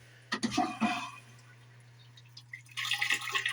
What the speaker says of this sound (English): this is your bathroom sink, plenty of water